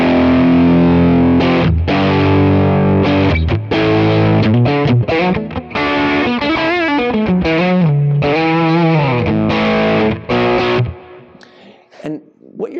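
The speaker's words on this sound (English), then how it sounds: "it's pushing the level, so it's pushing the gain a little more, but it's adding that top end to it" Electric guitar played through an overdrive pedal pushing the gain, loud distorted chords and sustained notes with bright top end and a few short pauses, then the final chord decays into near silence.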